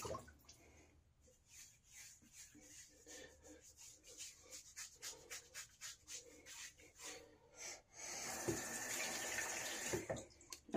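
Tap water runs to rewet a freshly shaved head during a Clubman Bay Rum wet shave, steady rushing flow, strongest and loudest near the end, with intermittent rubbing and splashing before it.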